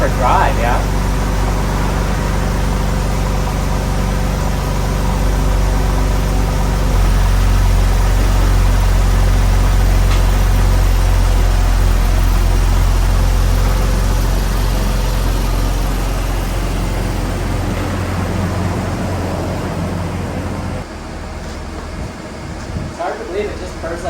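A Porsche 997 engine idles steadily after an oil service, a constant low rumble with faint higher hum running nearly unchanged for over twenty seconds before dropping off near the end.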